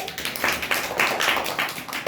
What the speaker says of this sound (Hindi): ताली बजाओ पहले